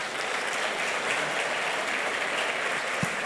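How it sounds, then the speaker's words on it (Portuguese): A church congregation claps together in steady, moderately distant applause, a dense even patter sustained throughout with no voices over it. "Vamos aplaudir Jesus por isso."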